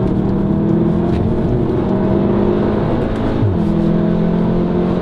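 A VW Golf R Mk7 with a six-speed DSG gearbox kicks down and accelerates, its engine droning loudly and steadily with a quick downshift partway through, heard from inside the car.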